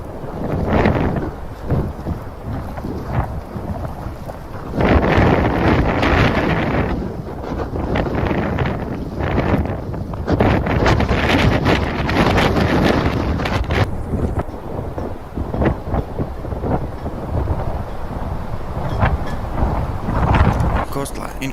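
Strong blizzard wind during the 2022 Buffalo snowstorm, a loud continuous roar with rough gusts buffeting the microphone and surging louder partway through.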